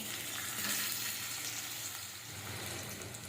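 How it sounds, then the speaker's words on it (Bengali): Boiled potatoes frying in hot oil in a pan, an even, continuous sizzle with a light crackle, close and moderately quiet throughout. "এই আলুগুলো ভেজে নেব"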